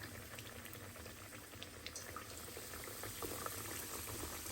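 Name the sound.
chicken fillets frying in hot oil in a pan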